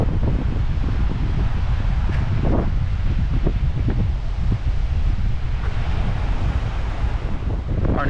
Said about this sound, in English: Windy day out here today